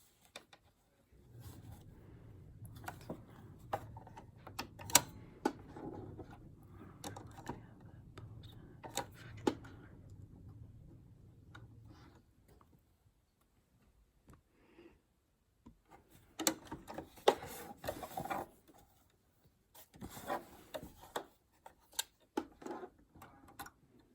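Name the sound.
sewing machine stitching X pattern on a case handle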